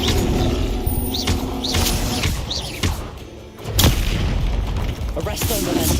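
The Incendio fire spell is cast in the Hogwarts Legacy video game. Deep booming blasts and thuds burst several times over a dense layer of game sound and music, with a voice talking at times.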